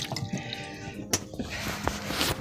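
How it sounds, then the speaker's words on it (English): Water running from a tap at a Michigan cabin and camper after a frozen water line was fixed: a steady, close rush of flow with small drips and splashes, no talking. "Look at this water pressure work."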